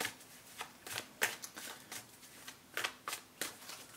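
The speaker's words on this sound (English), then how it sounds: "All right, let's continue shuffling." Tarot cards being shuffled by hand, a run of crisp riffling bursts repeating in an uneven rhythm, close and fairly quiet with no talking.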